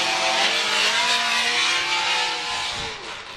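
Formula Drift competition cars drift in Miami, their engines screaming at high revs in a loud, sustained wail with shifting pitch as they slide past.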